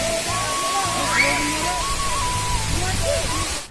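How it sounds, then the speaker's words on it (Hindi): Pradhanpat waterfall in Deogarh, Odisha, with water rushing as a steady broadband wash while someone talks over it throughout. "ये है प्रधान पाठ की वो झरना है"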